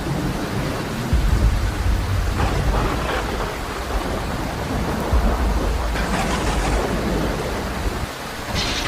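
Heavy rain pours steadily during a Montreal storm, with deep rolls of thunder rumbling in low bursts; no voices.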